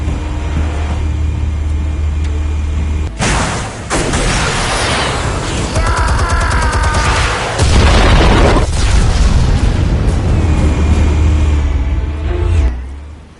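Explosives detonating in Batman: The Telltale Series, heavy booming blasts and rumbling debris layered over a loud, dense action soundscape with engine-like drone throughout.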